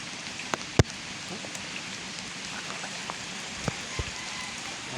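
Heavy rain drums steadily on a surface outside a house along a flooding road in San Mateo, Rizal, a dense continuous patter with a few sharper drops and faint distant voices beneath.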